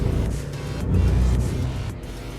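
A car on an autocross course going to full throttle out of a corner, its engine note a loud, close low drone that swells briefly as it accelerates.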